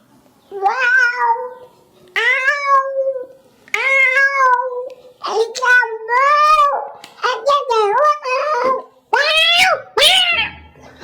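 A person mimics a cat meowing several times in a row, drawn-out plaintive mews with short pauses, close and clear.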